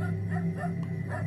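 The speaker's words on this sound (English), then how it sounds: "It's a dog." A dog gives short yipping barks and whimpering calls in a rural setting, several quick bursts over a steady low hum, moderately loud and close.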